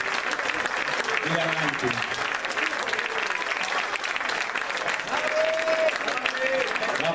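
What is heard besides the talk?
audience applause at Christmas concert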